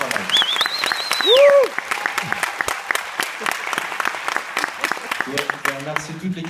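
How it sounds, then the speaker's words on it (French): Audience applause in a small performance venue, steady close clapping that runs throughout, with a few whoops and a brief voice over it. "on peut l'applaudir très fort, Arnaud."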